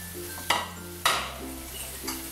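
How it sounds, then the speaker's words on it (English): A utensil scrapes and clinks in a bowl as bacon is stirred into a frittata's egg mixture, with three soft strokes over a quiet background hum and no talking. "Then we go in with our bacon. We are adding it into the egg mixture."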